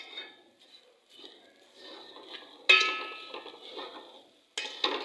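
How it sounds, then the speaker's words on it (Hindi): Vermicelli frying in butter in a pan, with a spoon or spatula clinking and scraping against the metal in short bursts, including two sharper knocks, close and fairly quiet. "ऐसे इनको थोड़ी देर के लिए फ्राई करूँगी।"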